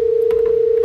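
A phone call rings through a mini Bluetooth speaker as a steady, unbroken electronic tone, fairly loud and close, with no talking over it.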